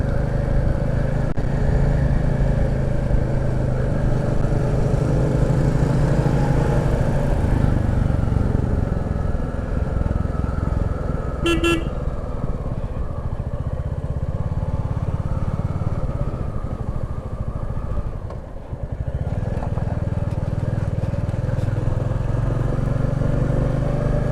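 A motorcycle ridden on a road in Jharkhand on the way to Jonha waterfall, its engine droning steadily and close with wind noise, easing briefly near the middle before picking back up.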